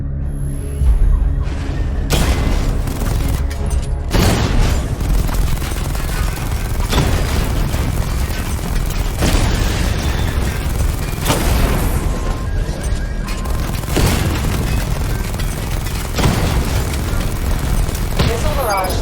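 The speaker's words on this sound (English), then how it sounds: "Destroy targets to charge up weapon energy and activate missile barrage." Repeated heavy booms from missile barrage explosions in Batman: Arkham Knight roll out every couple of seconds, loud and dense with crackling blasts, while a voice speaks underneath.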